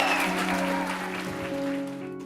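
An audience claps together in a steady wash of applause, with a faint sustained tone and hum running underneath.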